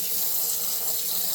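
Tap water runs steadily over mulberry leaves being washed in salted water in a sink, a continuous close hiss and splash with no talk.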